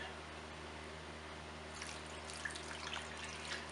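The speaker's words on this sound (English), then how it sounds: "Just pour in our marinade" Marinade pours into a dish midway through, a soft splashing, gurgling liquid sound rising over a quiet room hum and lasting about two seconds with a few small drips.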